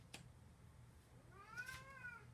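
A cat gives a short, faint meow after eating, with a faint tap or click just before it in an otherwise quiet room.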